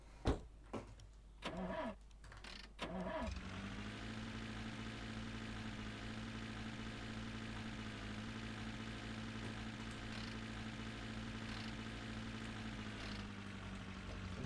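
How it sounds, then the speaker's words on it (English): Car engine in The Long Drive game cranking in several uneven bursts, struggling before catching, then settling into a steady, loud idle hum that holds to the end. "Why is this car having so much trouble?"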